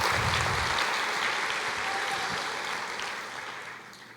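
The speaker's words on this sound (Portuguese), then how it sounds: "Aplauda ao Senhor." A church congregation applauds, a full, even burst of clapping from many people that gradually fades over about four seconds.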